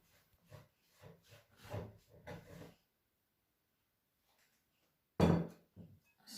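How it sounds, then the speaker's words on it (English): Soft, irregular thumps and rubs of bread dough for stuffed buns being kneaded by hand on a work table, a run of pressing strokes followed by a quiet pause and then a sharper slap and a few more pushes. "Knead the dough about 5 minutes."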